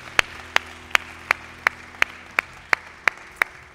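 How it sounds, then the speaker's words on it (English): Church congregation clapping in a slow, even beat, about ten sharp claps in unison spaced evenly, close and distinct over a quiet hum. "why do we clap so much in church?"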